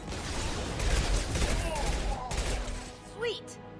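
Rapid gunfire in the Mass Effect 2 video game during a combat encounter, a dense, continuous rattle of shots with a brief whooshing effect near the end.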